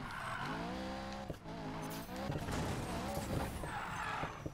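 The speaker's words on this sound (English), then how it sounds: "Ace drift. Off-road drift. Turbo drift." A car in Need for Speed Payback slides through drifts, engine pitch rising and falling between shifts while tires squeal and skid in loud, rough bursts.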